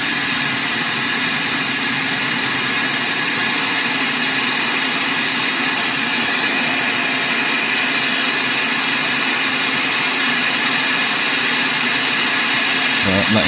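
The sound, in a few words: hot air rework station blowing on laptop board solder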